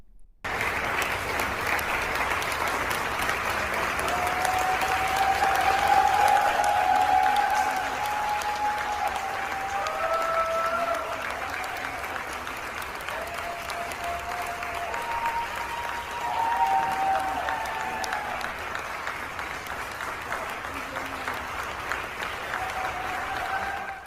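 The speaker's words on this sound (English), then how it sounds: "it wasn't just the crowd outside applauding them" A large crowd inside a government office building applauds continuously as fired State Department employees leave, a long sustained roar of clapping with scattered voices and faint cheers rising through it.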